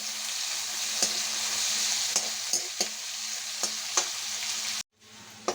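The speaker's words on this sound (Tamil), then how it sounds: "எல்லா வெங்காயம் போட்டு வச்சு அப்படியே கலரிட்டு எண்ணெயில் அப்படியே வறுத்து எடுத்துருவோம்" Onions fry in hot oil in a home Sunday kitchen, a steady close sizzle with occasional stirring clicks, then a sudden drop to near silence near the end before the frying resumes faintly.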